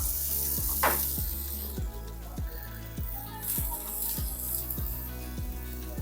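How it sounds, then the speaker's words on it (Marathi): Tomatoes go into hot oil with sizzling whole spices for a tangy tomato chutney, giving a loud, steady frying hiss with faint stirring and no voices. "आता त्याच्यामध्ये आपण हे टोमॅटो घेतलेले आहे ते टोमॅटो घालूया"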